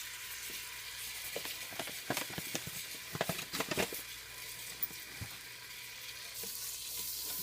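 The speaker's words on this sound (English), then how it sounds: "while my butter's melting" Butter melting and sizzling in a pan for a macaroni and cheeseburger bake, a steady frying hiss with a cluster of sharper crackles and stirring clinks midway.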